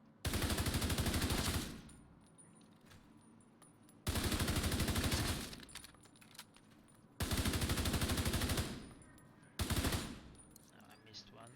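An assault rifle in a raid video game fires three long, loud automatic bursts of about a second and a half each, then a shorter fourth burst, with quiet gaps between them.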